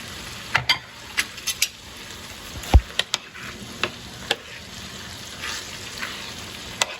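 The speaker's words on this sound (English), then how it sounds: "Now we're going to be adding the beef stock with the gravy inside. And this will thicken up." Beef stock with gravy simmering and thickening in a pan for shepherd's pie, giving a steady soft sizzle with scattered sharp clicks and taps of a utensil stirring against the pan, fairly close and without talk.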